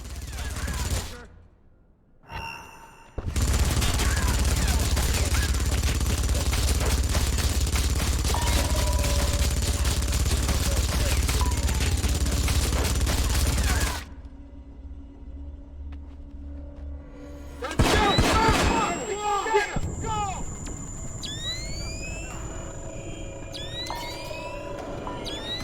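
Heavy sustained gunfire in the stealth shooter Splinter Cell: Conviction, a loud dense barrage with deep rumble lasting about ten seconds, then dropping to quieter game ambience with electronic chirps and tones.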